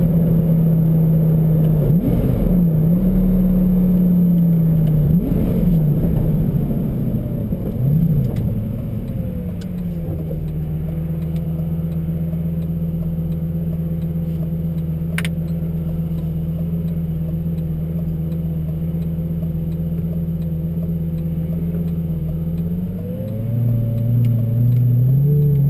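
A Lamborghini Gallardo engine on a test drive is loud and close. It revs and surges with rising and falling pitch, then settles into a steady, droning cruise before climbing again near the end.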